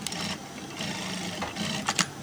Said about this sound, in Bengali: আবারও সেলাই করি